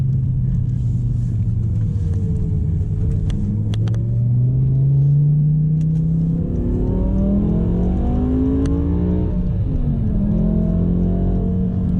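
A BMW M6 with a V10 engine and manual gearbox revs while driving on a highway, its loud, deep rumble rising and falling in pitch through several sweeps, close and continuous with no talking.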